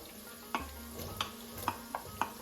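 Garlic and diced sweet green pepper fry in oil with a soft continuous sizzle, while a spoon taps and scrapes the pan at a regular pace, close and without talk.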